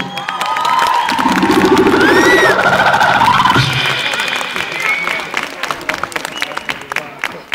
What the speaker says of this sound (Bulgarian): Аплодисменти за нашите водещи, които ще награждават тази вечер.